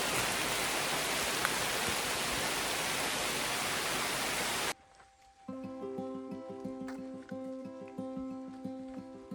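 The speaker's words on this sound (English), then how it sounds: "Raining!" Dense steady rain hiss, loud and close, for about half the span during a solo cycling trip through Luxembourg, then cutting off abruptly to quieter background sounds with faint tonal hum.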